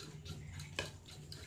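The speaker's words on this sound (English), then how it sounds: "I'm going to scramble the eggs" Eggs being stirred for scrambling, with a utensil tapping and scraping against a bowl in a few light, scattered clicks, fairly faint and close, with no talking.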